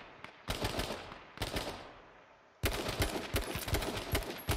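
Gunshots in the game H1Z1 come in three separate bursts of rapid automatic fire. They are fairly close and loud, with short pauses between bursts and no talking.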